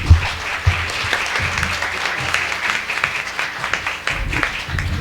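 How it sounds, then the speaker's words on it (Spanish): An audience at an academic panel on aesthetics of the female body applauds a speaker, sustained clapping from many hands with a few louder claps standing out, heard throughout. "Un fuerte aplauso"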